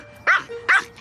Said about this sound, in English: if Bella and Lola aren't barking at them, they're going for their ankles